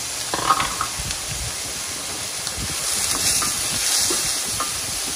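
Peeled shrimp and garlic frying in a hot pan for a spicy Asian stir fry, giving a steady, loud, close sizzle and hiss throughout with a few faint clinks.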